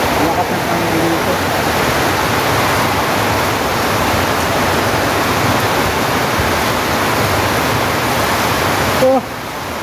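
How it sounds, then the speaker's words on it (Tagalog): Heavy rain pours down steadily as a dense, loud roar with no pauses, wind mixed in, and a faint voice briefly audible near the end. "Malakas ang ulan."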